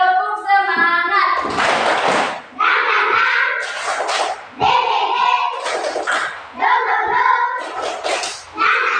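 A school class performs a rhythmic spirit clap, loud bursts of hand claps in repeated patterns with children's chanting voices between them.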